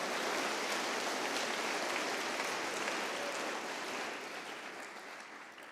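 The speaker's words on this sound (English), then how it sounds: "Please join us in welcoming our new students as well as a new APU with a warm round of applause." Broad, dense applause from a large audience at the Ritsumeikan Asia Pacific University September 2025 entrance ceremony, loud at first and gradually thinning and fading toward the end.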